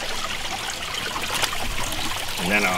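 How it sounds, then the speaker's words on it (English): Water trickles over a plastic mold and drips through drilled holes into a spring box on a homestead, a soft continuous close-up splashing at low level with no voices. "Water's going over this plastic mold. Ran holes in there, it's gonna drop through."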